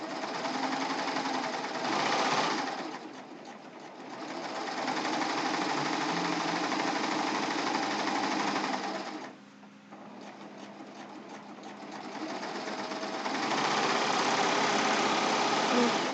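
A serger sewing machine stitching pillowcase fabric for a ruffled pillowcase, a loud continuous whirring hum close by that briefly slows and pauses twice before running on steadily, with no talking.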